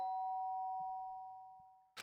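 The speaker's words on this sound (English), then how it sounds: "The sound of the doorbell forced its way into my room" A doorbell chime in the Danganronpa Trigger Happy Havoc video game rings as a single sustained ding that slowly decays over about two seconds, with no voices.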